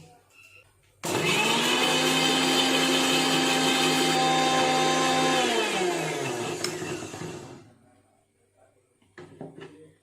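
An electric mixer grinds fish roe paste, switching on abruptly into a loud steady whine that holds for several seconds, then winds down and stops, followed by faint clatter.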